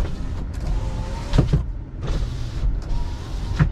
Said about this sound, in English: And the sunroof works too